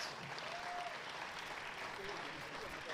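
Sustained applause from an audience at a forum in Nigeria fills the whole stretch, steady and dense without any break.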